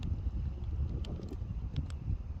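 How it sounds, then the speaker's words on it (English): Wind buffeting the microphone on a stone pier by the sea, with a constant low rumble and gusty thumps, loud and close, no speech. "Sorry about the wind."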